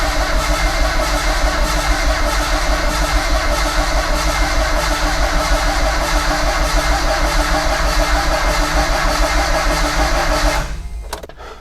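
A Mitsubishi Mighty Max engine is cranked on the starter without firing to build oil pressure, giving a loud, steady, rhythmic churning for about ten seconds before stopping.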